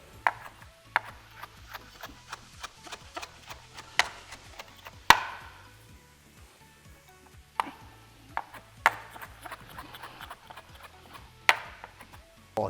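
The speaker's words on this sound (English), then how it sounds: "we're gonna go ahead and start chopping our dill" A knife chops fresh dill on a wooden cutting board in quick rhythmic taps, close and crisp, with a brief pause midway before the steady chopping resumes, and no talk.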